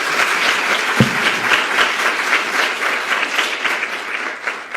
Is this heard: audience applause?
yes